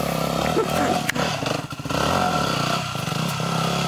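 An enduro motorcycle climbs a steep dirt slope at an off-road park, its engine roaring loudly and steadily with brief revving surges and some clatter, no speech over it.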